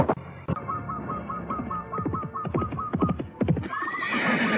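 A horse neighs loudly and nearby in a long shaky whinny, with hooves clip-clopping and a second whinny rising at the end.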